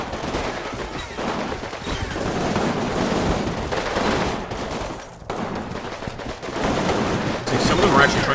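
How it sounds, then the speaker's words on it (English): Machine gun fire in the Combat Mission video game crackles in dense bursts with distant battle rumble, a voice talking over it. "See some MG fire going on there."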